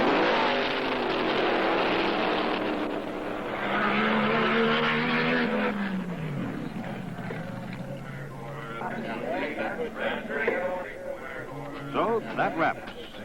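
Don Garlits' Top Fuel dragster makes a smoky solo run down the quarter mile at the NHRA Winter Nationals, a loud engine roar that swells and fades, partly under a commentator's voice.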